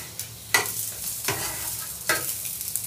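Smoked pork chops sit frying in fat, with a soft steady sizzle and three distinct scraping clatters of a utensil moving them about the pan, close by and without speech.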